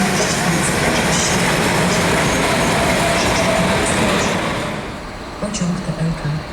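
A train moves through Wrocław Główny station with a loud, continuous rumble and rattle of wheels on track, and a voice speaks over it throughout.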